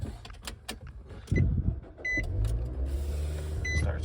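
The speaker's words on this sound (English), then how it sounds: "Let me start her up so you guys can hear what that sounds like." A 2020 Nissan NV200 cargo mini-van cranks and fires up with a brief whirring starter, then settles into a low, steady idle rumble, close by, with small clicks and chimes around it.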